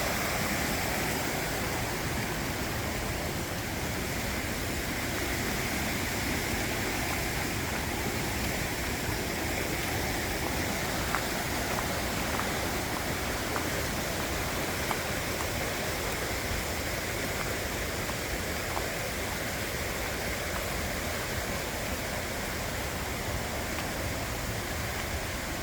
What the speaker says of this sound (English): This sleepy little creek. It's not even, it's like just a little creek.